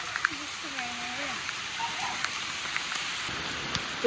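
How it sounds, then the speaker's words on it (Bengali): Heavy rain pours steadily in a hissing, even wash with scattered drop impacts, and faint voices sit low beneath it. "এত পরিমাণে বৃষ্টি হচ্ছে প্রচুর পরিমাণে বৃষ্টি"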